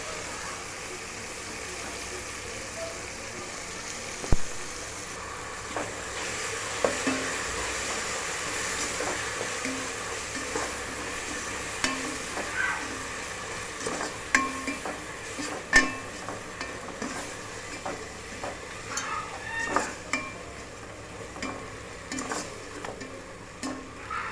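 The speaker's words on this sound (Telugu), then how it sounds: "టొమాటో వేగినాక ఒక రెండు స్పూన్ల అల్లం వెల్లుల్లి పేస్ట్ వేయాలి" Ginger garlic paste frying with tomato in a pan for mutton biryani, a soft ongoing sizzle with frequent scraping stir clicks, fairly quiet and close.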